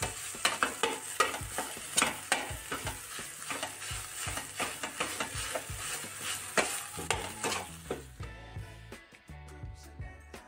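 Masala egg bhurji with cheese is stirred in a pan, rapid rhythmic spatula scrapes and taps over a soft sizzle, close and busy, ending in a few slower strokes.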